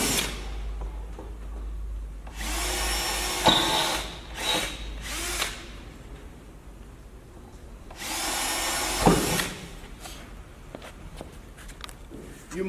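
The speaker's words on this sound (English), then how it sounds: "I'll now take a drill and I will drill through those holes that I marked." A power drill bores through marked spots in a wall in several loud bursts of whining, grinding drilling, the longest near the start and end, separated by quieter handling noise.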